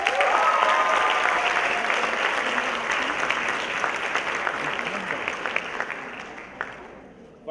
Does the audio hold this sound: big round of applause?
yes